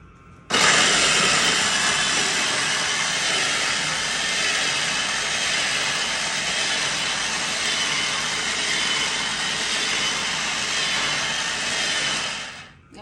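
A food processor runs on the ingredients for cheesecake squares, a loud, steady, high-pitched motor whir that kicks in suddenly and holds for about twelve seconds before cutting off.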